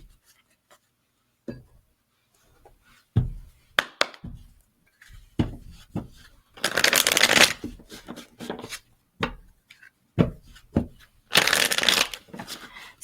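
Tarot cards are shuffled close up in a quiet room, with sharp taps and flicks followed by two longer riffling bursts, separated by pauses of near silence.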